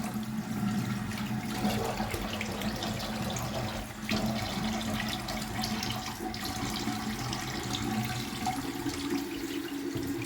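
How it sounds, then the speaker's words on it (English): Cold New York tap water running hard into a sink, a steady loud rushing stream that continues unbroken, with no talking over it. "Let's get some of this cold New York water on."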